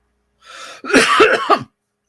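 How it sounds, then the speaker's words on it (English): A woman with a lingering chest cold coughs several times in quick succession, a short harsh burst and then three louder, rougher hacks, close to the microphone with no talk. "I'm still hacking my lungs up."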